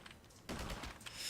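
Rapid burst of gunfire erupts loud and close in a video game set among ocean ecosystems, a sustained volley of shots that starts abruptly and carries on to the end.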